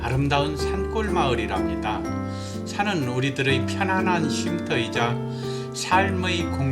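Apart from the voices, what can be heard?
No everyday noises stand out.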